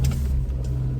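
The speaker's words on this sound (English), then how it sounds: "Starts first time on the key" A 1990 Volvo 240 GLT estate with a five-speed manual, its engine running with a steady low rumble right after starting on the key, close and alone.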